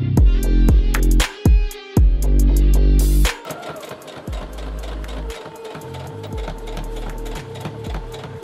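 A sewing machine runs a single straight stitch at 2.5 length along a pair of jeans being tapered. Loud, rapid stitching comes in short stop-start bursts, then settles into a longer steady run.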